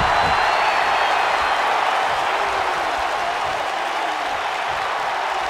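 Arena crowd noise from a WWE 2K19 wrestling match set in Philadelphia, a steady broad roar of cheering and applause that holds at full, even loudness throughout with no breaks.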